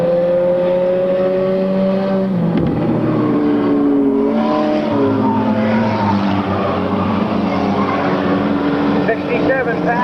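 Race cars roar around a 1998 short-track oval, engines droning and rising as Pat Murray's number 67 leads and Jimmy Dunham's 61 chases for second, with an announcer calling the race over the steady engine noise.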